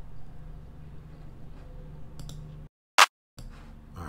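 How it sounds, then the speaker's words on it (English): A single clap sample from a drum kit in Logic Pro sounds once as a short, crisp, bright hit after a moment of silence, with faint room noise before and after it. "let's see what these claps sound like."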